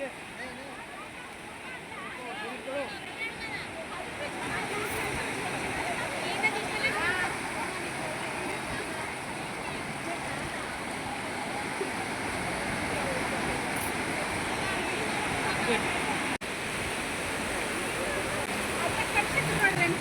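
Steady roar of sea surf washing onto a beach at Murudeshwar, a broad rushing wash of water with no talking over it.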